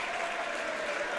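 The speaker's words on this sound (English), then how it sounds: "a sarcastic clap here by the student section" At a high school boys' tournament basketball game, the student section gives a steady, sustained round of clapping, dense and even throughout the short clip.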